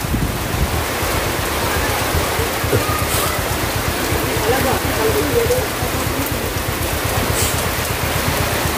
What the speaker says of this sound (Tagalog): Nabot kami ng ulan